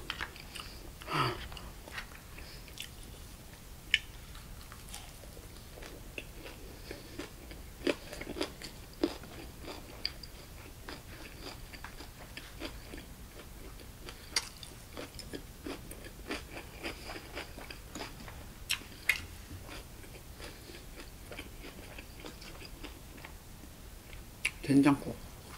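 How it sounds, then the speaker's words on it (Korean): Bossam, Korean boiled pork, being chewed and bitten in crunchy mouthfuls, with close, moist chewing noises and occasional crisp bites running throughout in a quiet late-night setting. "혼자 먹으니까 고기 2개씩 넣을 수 있어서 좋다"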